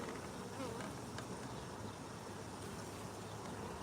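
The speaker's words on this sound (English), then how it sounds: "Oh, get out of there, bees." Honey bees swarming around an open hive during honey extraction, a continuous dense buzzing close by with individual insects droning past.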